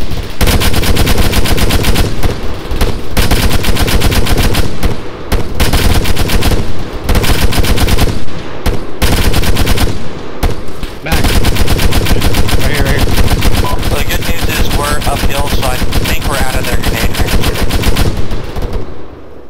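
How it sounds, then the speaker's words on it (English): Automatic rifle firing in the combat video game Arma on the Chernarus map, loud sustained bursts of rapid gunfire with brief pauses, other shots and distant battle noise mixed in. "I'm gonna shoot some red tracers out of AR."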